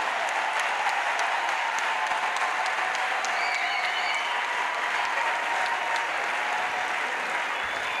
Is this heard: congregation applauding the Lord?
yes